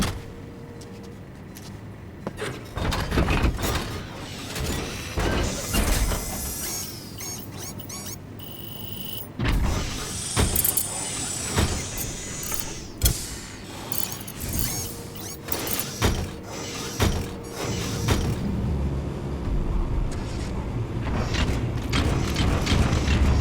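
Walker gear machine from Metal Gear Solid 5 starting up and moving, with loud mechanical whirs, ratcheting clanks and gear grinding in bursts over game ambience.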